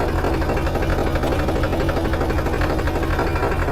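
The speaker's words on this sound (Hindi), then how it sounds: "तो चलो ट्रैक्टर की राइड लेते हैं।" A tractor engine idling steadily at low speed, a loud, continuous mechanical rumble with a rapid knocking throb, close by and unbroken throughout.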